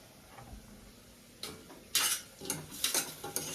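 A spoon mixes food in a cooking pot with a few sharp metallic clinks and scrapes, growing busier toward the end, close and moderately loud with no talking.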